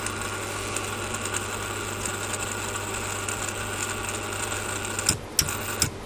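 An Alinco EMR-400 antenna rotator turns to the left, giving a steady low motor hum with a mechanical whir that runs evenly throughout, then a few short clunks near the end.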